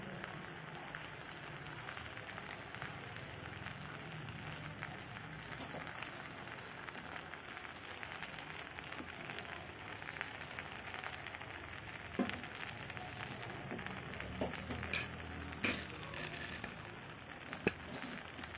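Brinjal and potato curry fries steadily in a pan, a continuous close hiss and crackle with occasional sharper pops, no talk over it.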